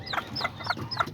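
A hen clucks softly with her newly hatched chicks, four short rhythmic clucks close by, with faint peeping under them and no talk.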